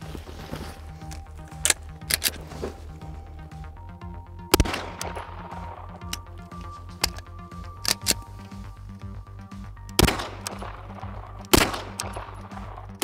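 Flux Raider-X sub gun fired at a 100-yard target outdoors, sharp single shots spaced irregularly with a few close pairs, loud transients over a quiet background hum.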